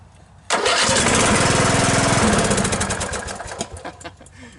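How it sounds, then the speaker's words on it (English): A small engine cranks over after an oil change and valve adjustment, turning with a fast mechanical rhythm. The loud, close cranking fades and becomes uneven toward the end. "Let's see if it cranks over easier than it did this morning or earlier."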